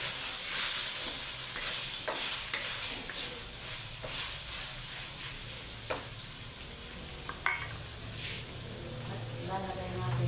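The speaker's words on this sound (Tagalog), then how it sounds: "igisa na natin yung ating gulay" Vegetables for pinakbet sautéing in a pan, with a steady loud sizzle and hiss broken by the scrape and clatter of stirring, close to the listener and continuous throughout.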